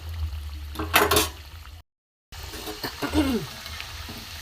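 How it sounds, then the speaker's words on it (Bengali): Malai chop pitha frying in hot oil, a soft steady sizzle with a few clinks of a utensil against the pan and a short silent break. "এবার আমি একটা একটা করে এখানে ভেজে নেব, লাল করে একটু ভেজে নেব।"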